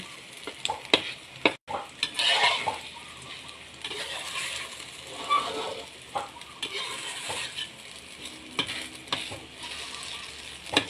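Tomatoes and eggs frying in a pan, with a steady sizzle and repeated stirring scrapes and clinks of a utensil against the pan throughout.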